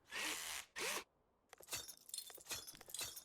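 Power drill in the Car Dealer Simulator game: two loud sustained whirring bursts up close, then a stretch of quieter clicks and rattling mechanical handling.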